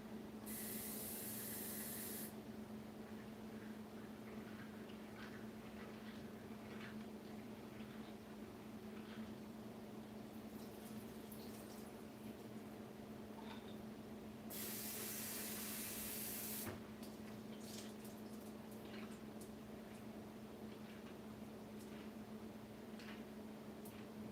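Nuts rinsed under running tap water, two bursts of spraying water hiss, the first at the start and the second partway through, separated by quieter rustling and handling sounds.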